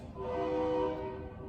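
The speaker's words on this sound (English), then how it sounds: "I heard a train." A train passes in the distance, its horn sounding as a steady, sustained tone that swells briefly and fades, faint and heard alone.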